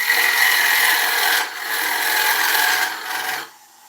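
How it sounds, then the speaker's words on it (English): A squared carbide-tip tool cuts an oak bowl spinning on a wood lathe, giving a steady, close, abrasive scraping rasp with a brief dip midway before it stops near the end. "What I'm using now is a squared carbide tip"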